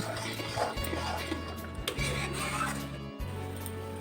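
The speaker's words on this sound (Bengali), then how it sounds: "আপনারা এইভাবে নাড়তে থাকবেন, নয়তো নিচে লেগে যাওয়ার ভয় আছে।" South Indian tomato pickle stirred in a pan over low-to-medium gas: a close, continuous rubbing and scraping of the spoon against the pan, under a faint steady hum.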